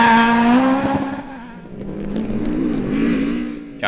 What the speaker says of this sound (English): all is not well with the Mark II's power plant as it's misfiring heavily on its second pass